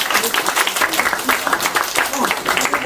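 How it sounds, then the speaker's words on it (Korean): Energetic applause from high school students encouraging debate participants at a school reading and debate club final, with dense, continuous clapping throughout. "수고한 친구들 서로 친구를 위해서 심찬 박수로 격려하겠습니다"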